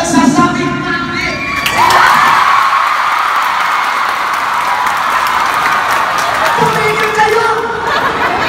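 A live comedy show audience in Urdaneta breaks into loud, sustained clapping and cheering with whoops and shouts, the crowd noise swelling after a couple of seconds and carrying on throughout.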